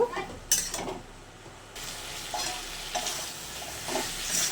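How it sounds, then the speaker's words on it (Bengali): Spices for a parshe fish curry with cauliflower and potato — salt, turmeric, chili powder, cumin powder, garlic and ginger paste — sizzle and fry in a pan while being stirred, with steady hissing and a few scraping strokes. "স্বাদ মতন লবণ হলুদ লঙ্কার গুঁড়ো জিরের গুঁড়ো এবার আমি খুব ভালো করে কষিয়ে নেব"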